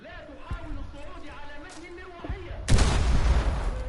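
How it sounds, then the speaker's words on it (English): A frag grenade goes off in a tactical shooter match, a sudden loud blast erupting midway and trailing into a rumbling decay, after a stretch of earlier game sounds and a caster's commentary. "Lipsy with a lovely frag grenade there onto the bandit"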